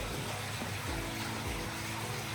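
Water lifted by a large turning screw at a windmill in Zaanse Schans rushes in a steady, dense, close wash with low rumbling underneath, continuous throughout.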